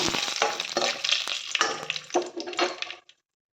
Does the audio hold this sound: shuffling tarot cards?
no